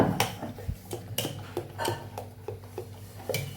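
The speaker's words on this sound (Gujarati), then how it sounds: "આવી રીતે આપણે તવીને પાછી સાફ કરી નાખવાની છે" Metal scraping and clinking on a dosa tawa (griddle) as it is wiped clean with a cloth, a close, uneven run of sharp taps and scrapes.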